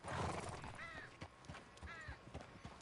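A horse in the Red Dead Online video game whinnies twice, each a short wavering neigh, amid faint clopping hooves and ambient game sounds, moderately quiet and with no voices over it.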